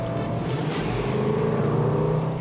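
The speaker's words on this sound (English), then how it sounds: "Even with the active exhaust kind of toned down, it's still ridiculously loud" A Range Rover Sport SVR idles or cruises with its active exhaust set to quiet mode, a continuous loud, deep engine drone with a steady low rumble and no pauses, heard close.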